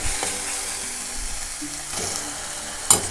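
Onions and tomatoes frying in a pan for a masala, a steady close sizzle with light stirring clatter and a sharp clink near the end, no talk.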